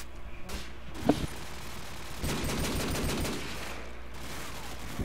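Rapid automatic gunfire in a Call of Duty 4 match, a dense burst of shots with scattered single cracks before it, fairly close and loud.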